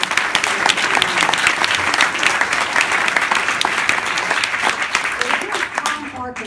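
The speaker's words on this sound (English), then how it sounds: "So let's give them a round of applause." A large audience gives sustained, loud applause, a dense continuous clatter of many hands that thins slightly toward the end.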